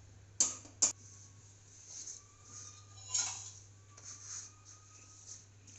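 Flour being stirred together with carom seeds and salt in a bowl, heard as two sharp utensil taps against the bowl followed by soft, faint scraping and rustling, with a steady low hum underneath.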